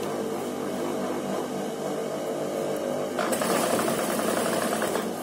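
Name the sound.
sewing machine stitching a trouser crease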